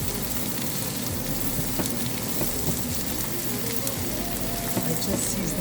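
Paneer sizzles steadily in olive oil in a pan, seasoned with butter shan seasoning, a dense continuous crackle close by with no talk.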